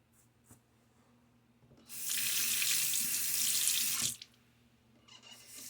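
A faucet turns on and water runs steadily into a sink for about two seconds, then shuts off, leaving quiet room tone.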